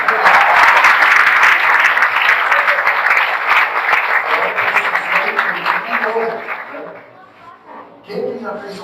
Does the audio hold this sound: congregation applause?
yes